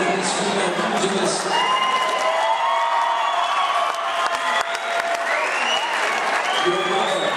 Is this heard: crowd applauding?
yes